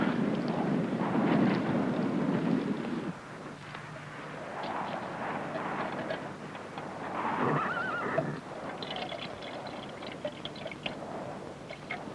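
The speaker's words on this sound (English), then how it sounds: "I'm not sure about this horse carrying double." A horse gives a loud, drawn-out neigh, followed by irregular hoof clip-clops and snorting as it moves about on a western-movie soundtrack, near and prominent with no talk.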